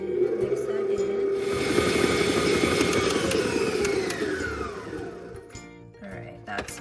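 An electric stand mixer whirs steadily as flour is worked into bread roll dough, close and moderately loud, then winds down near the end.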